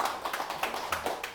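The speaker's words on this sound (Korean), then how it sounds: "우리 박수 한번 크게 쳐야 돼요." At a Korean lecture-style gathering, an audience claps in a soft, rhythmic pattern, with evenly spaced bursts of hand claps heard at moderate distance.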